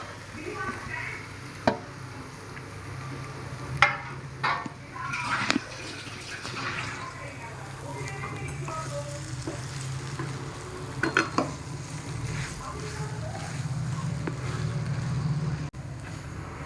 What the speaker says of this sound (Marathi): आता बटाटे टाकून घेते मॅश केलेले.